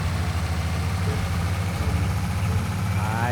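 Heavy truck engine in Farming Simulator 19, pulling a trailer loaded with a tractor, holds a steady low idling rumble with a constant pulsing drone throughout and no clear revving.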